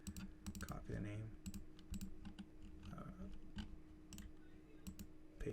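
Rapid clicking of computer keyboard typing mixed with mouse clicks, close and steady throughout, with a low hum beneath.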